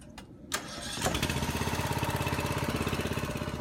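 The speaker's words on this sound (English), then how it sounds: "All right, if you'll crank that machine," The engine of a foundation lifting jack machine is cranked and catches after a couple of pulls, then settles into a loud, rapid, steady putter close by.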